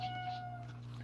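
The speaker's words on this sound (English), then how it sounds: "Why does she always meow in the middle of these readings?" A pet cat gives one drawn-out meow indoors, close and fairly clear, fading after under a second over a low steady hum.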